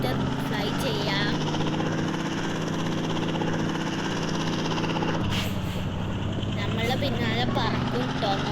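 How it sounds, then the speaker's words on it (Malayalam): Steady whirring engine drone of a helicopter flying in the mobile game Indian Bike Racing 3D, loud and continuous, with a brief change in pitch partway through. "നമുക്ക് ഹെലികോപ്റ്റർ ഫ്ലൈ ചെയ്യാം."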